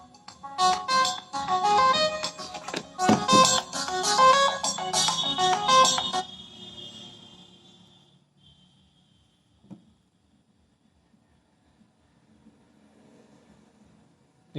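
A phone ringtone plays a loud, repeating electronic melody for about six seconds during a Hindi chemistry lesson, then cuts off and leaves near silence with a couple of faint knocks.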